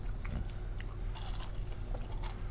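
Crunchy food is bitten and chewed close to the microphone in repeated crisp crunches, fairly faint against steady background hiss.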